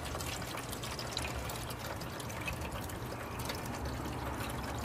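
Melted pine resin being strained from a pot, a continuous liquid pouring and trickling sound, steady and close with no pauses.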